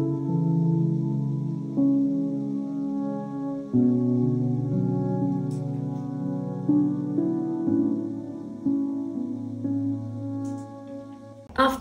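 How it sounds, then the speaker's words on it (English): Soft lofi piano melody from a custom preset with a mid-range EQ boost, sustained chords and a gentle line moving in steady phrases, close and even, with no voices. "After the intro, I added one more piano melody."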